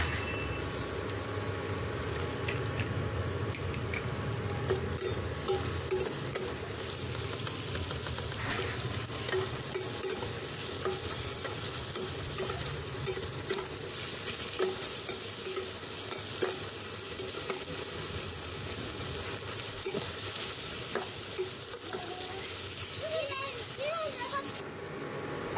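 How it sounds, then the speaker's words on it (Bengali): Sliced onions frying in a pan with turmeric and salt, stirred steadily throughout; a continuous sizzle with repeated scraping strokes of the spoon, close and fairly quiet, running alone for about twenty-five seconds. "দিয়ে এবার আমি এটাকে ভালো করে নেড়ে নেব"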